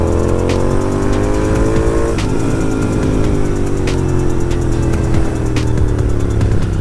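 A Royal Enfield Continental GT 650 motorcycle rides steadily on an open road, its engine droning loud and continuous with a brief gear-change dip, the note rising and falling alone with no talk.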